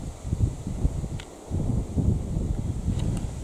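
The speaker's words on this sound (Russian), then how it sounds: "Порыв еще сильнее ветра пошел." A strong gust of wind buffets the microphone outdoors, low rumbling blasts rising and falling in waves with faint rustling.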